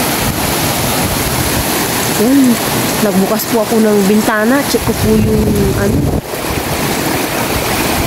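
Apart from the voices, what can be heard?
heavy rain and strong wind through open window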